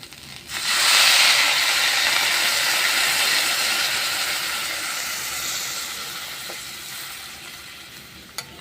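Water poured onto fried red lentils in a hot pan erupts into a loud, steady hiss of steam and sizzling that slowly fades over several seconds, with a small clink near the end.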